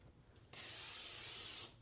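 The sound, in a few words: spraying a baking dish with cooking spray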